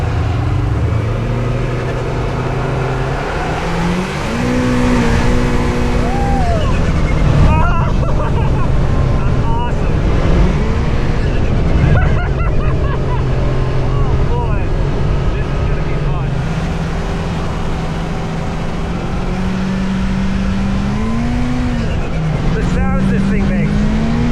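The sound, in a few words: Kawasaki Teryx5 H2 side-by-side supercharger at full power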